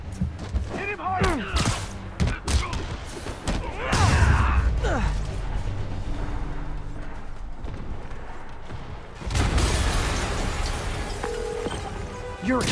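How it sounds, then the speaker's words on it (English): Explosions in Marvel's Spider-Man Remastered burst out twice with deep rumbling tails, amid mechanical clatter and rapid gunfire-like snaps, with voices speaking at times. "an explosion just..."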